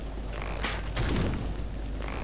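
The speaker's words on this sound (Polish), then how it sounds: "to może z łuku pociągnijmy. Mam więcej tych strzał." A bow in Dark Souls is drawn with a tight creak, then loosed with a dull thump and a short whoosh, all within a couple of seconds over a low game ambience.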